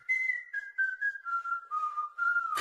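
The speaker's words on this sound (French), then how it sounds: "Il se remet à siffler." A child whistles a slow, wavering tune in short phrases, pitch gradually sliding downward, clear and close with no other sounds.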